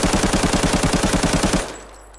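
A new automatic gun in the video game Arena Breakout fires a rapid, evenly spaced burst of about a dozen loud shots. It then stops abruptly, leaving a fading tail.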